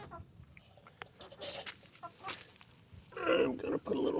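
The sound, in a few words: chickens clucking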